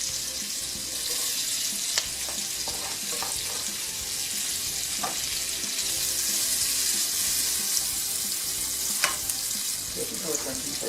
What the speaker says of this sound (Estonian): Ma võin siia nüüd panna sibula ka praadiga.